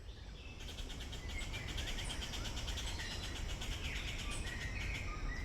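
Birds call continuously in a dense, humid tropical rainforest south of the equator, a layered chorus of chirps and repeated notes over a constant insect-like hiss, fairly loud and without speech.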